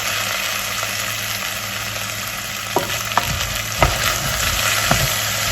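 Potatoes and leeks sizzle and fry in a pan for vegetable soup, a steady bright crackle broken by a few soft scrapes and knocks as a utensil stirs them.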